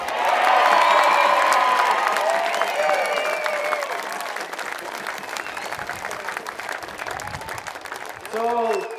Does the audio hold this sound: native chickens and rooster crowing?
no